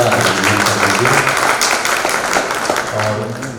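Audience applause at a Viksit Bharat Conference 2024 event, welcoming chief guests on stage; a dense, steady wash of clapping runs throughout at close range, with a voice talking over it.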